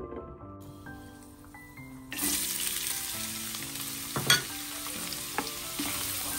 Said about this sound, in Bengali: তো এদিকে ফ্রাইড রাইসের জন্য গাজর আর বিনস ভাজতে বসিয়ে দিয়েছি